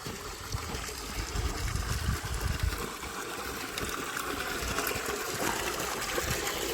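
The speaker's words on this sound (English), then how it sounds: "enough water coming into the tank" Water pours and splashes steadily into a tank, a continuous rushing flow with a deeper gurgle underneath, loud and close.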